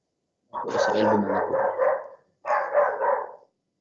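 A dog on the street barks in two sustained bursts, loud and fairly close, with a long harmonic run of barking followed by a shorter second volley after a brief pause.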